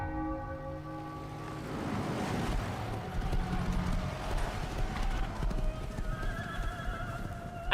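Horse hooves clip-clop steadily through a video game trailer. A horse whinnies and a bell tolls, all over a swelling music-and-ambience bed.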